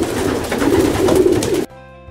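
Racing pigeons coo close by in soft, throaty repeated calls, cutting off abruptly near the end.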